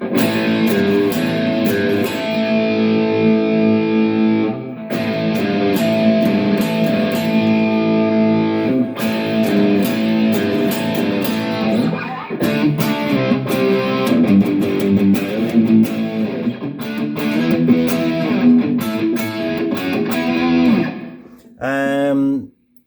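Electric guitar played through a Valeton GP-100 multi-effects unit with its saturate distortion effect, loud sustained distorted chords and riffs in bursts, ending with a brief muted scratch.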